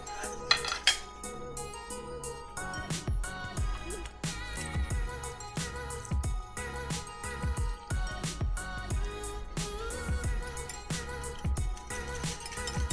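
Coconut yogurt and squeezed lime juice stirred together in a bowl, a spoon clinking and scraping against the sides in quick repeated strokes over a faint musical backdrop.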